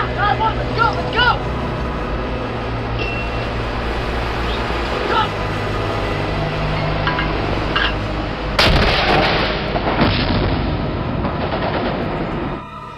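Heavy artillery and gunfire in an insurgent firefight, booming blasts and crackling shots under a continuous dense rumble, with a loud detonation partway through and voices talking over the battle noise.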